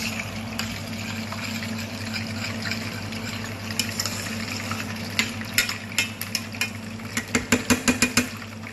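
Rice is stirred in a pan for arancino, a soft background hiss and scraping giving way to a run of sharp, quick utensil clacks toward the end.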